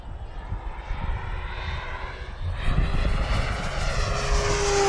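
A Tucano propeller aircraft engine drones loudly and steadily at close range, the whine climbing and the roar swelling as it powers up, with no talk over it.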